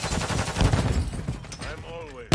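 Gunfire in Call of Duty: Modern Warfare III, a loud, dense burst of rapid shots mixed with voices, easing briefly before a sharp blast at the end.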